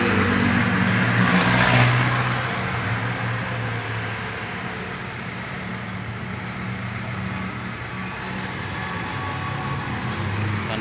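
A repaired aircon fan motor runs steadily after its wiring fix, giving off a continuous mechanical hum and whir that swells slightly at the start and then holds level, close by and alone.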